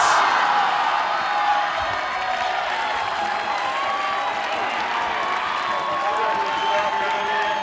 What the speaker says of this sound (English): the crowd goes wild for that one